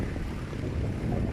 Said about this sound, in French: C'est une journée pleine de vent